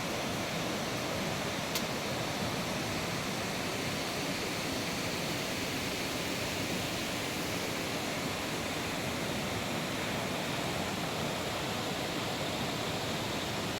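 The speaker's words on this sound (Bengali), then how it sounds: "আর এই ঝর্ণার আওয়াজ।" Steady, even rush of a mountain waterfall near tea gardens at Tabakoshi, a constant dense hiss heard alone without a voice for the whole stretch.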